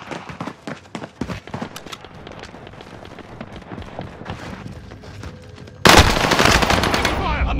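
Video game combat with scattered gunshots, then sharp bursts that build into dense, loud automatic fire near the end, mixed with footsteps and clatter.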